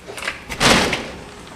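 A door swings open onto a big porch facing the Atlantic Ocean, giving a short broadband thump and rattle near the microphone, followed by a fading rustle.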